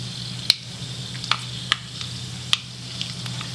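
Fenugreek seeds crackle in hot oil in a pan, a handful of sharp, separate pops spaced about a second apart over a low, steady sizzle, close by with no voices.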